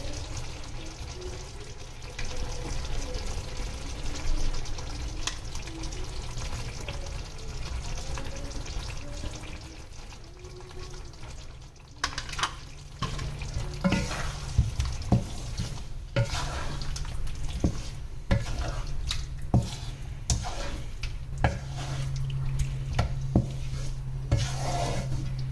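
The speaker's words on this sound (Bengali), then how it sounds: "ভালোভাবে এবার মিশিয়ে নিচ্ছি" A spoon scrapes and stirs through methi malai chicken gravy as fresh cream is worked in, soft rasping strokes and gentle sizzle repeating steadily at close range, with a low hum underneath.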